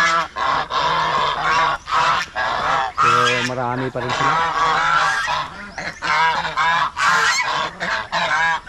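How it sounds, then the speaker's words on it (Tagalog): Turkeys kept on a small farm call out in loud, repeated gobbling bursts throughout, close by, with someone talking intermittently over them. "Yung mga alaga natin dito, yung mga pabo,"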